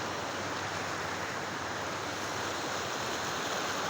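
Creek water in Cagayan de Oro rushes in a steady, unbroken broadband hiss, close and fairly loud, with no pauses or voices.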